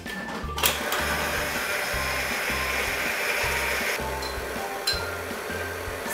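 An electric mixer whirs steadily in a bowl, blending whole milk and vanilla into eggs, with a rhythmic pulsing drone and a few clinks of the beaters against the bowl, no one speaking.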